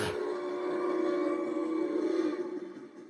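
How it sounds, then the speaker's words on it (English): A train passes at a distance, giving a sustained droning rumble with tonal whistle-like hums that swells and then slowly fades, heard alone. "I hear a train."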